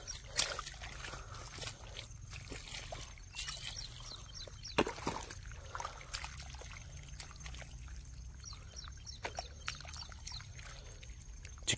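Irrigation water from a pump pipe flows into a farm field, a faint, continuous trickle and splash with a few sharper drips and soft knocks over a quiet outdoor background.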